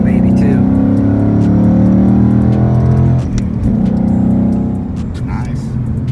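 A 2019 Mustang S550 PP2 with a six-speed manual revs while driving, a loud, close engine note that climbs and then drops off partway through, with people talking over it.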